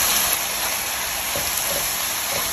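Beef liver and garlic fry in a hot pan with an even, hissing sizzle that stays steady and close throughout, with no talk over it.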